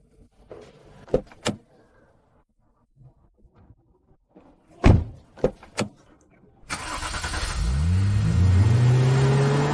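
A car door thuds shut a few times nearby, then the engine cranks, starts and revs as the car pulls away, its pitch rising steadily, with no talking.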